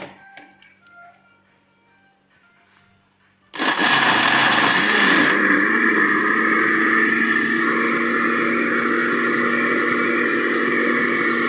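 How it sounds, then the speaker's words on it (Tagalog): After a few quiet clicks, a kitchen blender roars to life and keeps running with a steady, loud, high-pitched whir. "Blender na natin itong isa."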